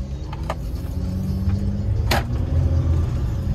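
Hymer MLT-580 motorhome engine, just fitted with a new hose, pulling away with a steady road-level drone and a brief rise in revs, plus a couple of short clicks and a rattle partway through.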